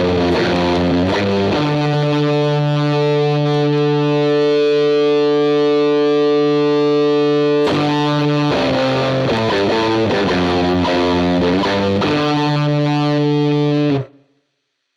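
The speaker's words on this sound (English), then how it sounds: "the blues driver is giving us a fuzz-like quality when we push the gain up" Electric guitar played through a Blues Driver pedal with the gain pushed up for a fuzz-like tone: loud distorted chords, one held for several seconds, then a choppier riff that cuts off abruptly at the end.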